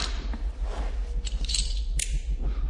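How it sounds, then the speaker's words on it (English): Sharp metallic clicks of flint and steel in a Minecraft cave, a few scattered strikes over a low droning ambient bed with faint rustling. "The man begins lighting his flint and steel again after hearing something coming."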